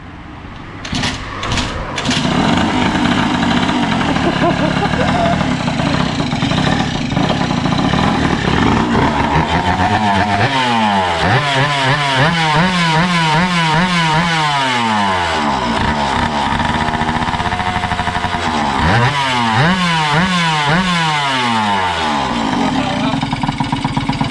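A Honda Dio 50 scooter with a cold engine kicks to life after a few cranks, then idles and revs up in repeated loud rising and falling bursts close by.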